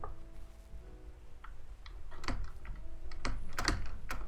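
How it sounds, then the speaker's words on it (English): Keys on a noisy computer keyboard are pressed in a quick run, including the spacebar, giving sharp clacks that grow louder and denser toward the end over faint background game sound. "You can literally hear me on my noisy as fuck keyboard. Pressing the spacebar, so you know I'm pressing it."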